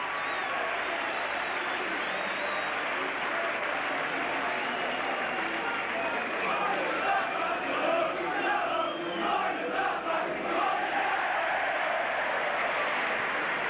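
A large crowd at a 1989 Leeds v Warrington rugby league match roars and cheers steadily for a good kick, a dense continuous wash of voices that swells slightly toward the middle and holds throughout.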